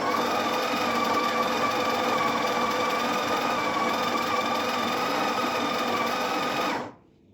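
The built-in grinder of a Breville Barista Express BES870SLQ grinds coffee beans on a fine setting, a steady high-pitched mechanical whir that runs close and unbroken for about seven seconds, then cuts off abruptly.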